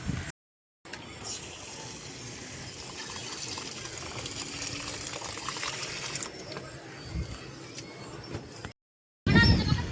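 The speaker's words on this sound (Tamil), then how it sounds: "இப்போ நம்ம அரிசி கழுவி ஊற வச்சுக்கலாம்." Rice is washed in water in a garden setting for chicken biryani, a steady sloshing and rustling of grains in water that runs for several seconds between short silent gaps, with no talking.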